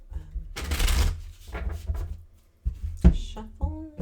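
Tarot cards are shuffled close by in quick riffling bursts, mixed with soft handling clicks and a voice speaking briefly.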